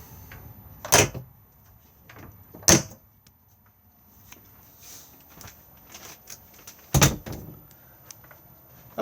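The wardrobe door inside an Elddis Majestic 185 caravan (2020) is opened and shut, giving three sharp, close knocks and clunks spaced a couple of seconds apart, with quieter rattles and handling noises between them in an otherwise quiet room.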